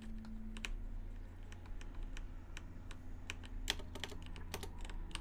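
Fingers type on a computer keyboard that keeps disconnecting, with quick, irregular keystroke clicks over a faint low hum and no voices.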